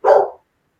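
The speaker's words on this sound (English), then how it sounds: "you can hear my dogs behind me" A single short dog bark, loud and close, ending abruptly and followed by silence.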